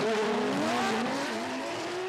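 Two 2JZ-powered Toyota GR86 drift cars scream around a racing circuit with tires squealing in long wavering howls over the loud, sustained roar of their engines.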